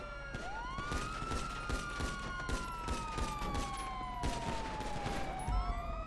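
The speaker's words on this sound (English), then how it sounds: "We got shots fired on driver." Rapid gunfire in a video game roleplay police chase, dense bursts of sharp shots cracking over a wailing police siren that sweeps up and down, with a few brief voices mixed in.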